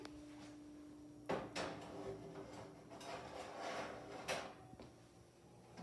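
Clattering handling sounds of waffle s'mores being placed into a small countertop mini oven: a few sharp knocks and clicks of a tray or door, soft and close in a quiet kitchen with a faint steady hum.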